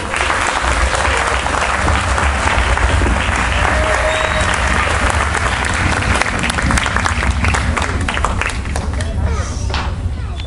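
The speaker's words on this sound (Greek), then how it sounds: "Ιδιαίτερα όταν μας χειροκροτάτε." Audience applause fills the hall at a concert of young performers, steady dense clapping mixed with crowd hubbub that continues loud and unbroken throughout.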